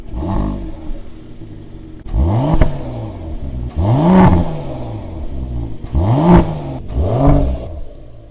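A Mercedes-AMG GLE 53 engine starts up and then revs hard several times in separate bursts, each rising and falling sharply, loud and close with no talking.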